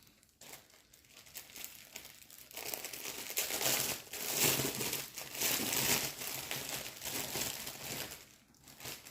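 Crinkling plastic packaging as cross-stitch threads are unwrapped, soft close rustling that swells louder through the middle and eases off toward the end, with no talking.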